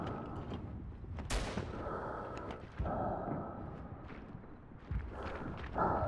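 Gunfire in the World War I shooter Verdun, with scattered sharp shots over steady battlefield noise and several cracks standing out from the din.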